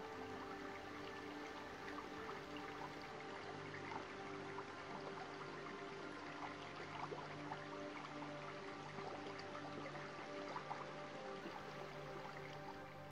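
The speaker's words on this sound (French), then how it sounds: "percevoir les bruits subtils de l'eau qui coule lentement" Steady, gentle trickle of slowly flowing water, continuous and even throughout, fairly quiet with no other sounds standing out.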